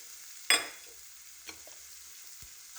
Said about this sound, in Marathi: मिक्स करून घेणे व थोडा वेळ परतून घेणे.